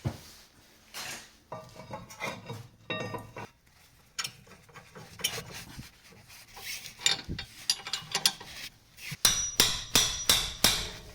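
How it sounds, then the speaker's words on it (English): Rear caliper bracket going back onto a 2020 Honda Odyssey during a brake pad and rotor job: scattered metallic clinks, scrapes and taps, ending in a quick run of sharp, ratchet-like clicks, close up with no talking. "Let's put back the caliper bracket in its place."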